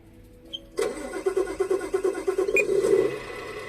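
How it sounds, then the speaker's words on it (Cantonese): Tamiya Scania 770S RC truck sound unit plays a diesel engine start: a brief whir, then a loud cranking catch that settles into a steady, throbbing idle, close and alone. "咁我哋撻車先，首先要撻車"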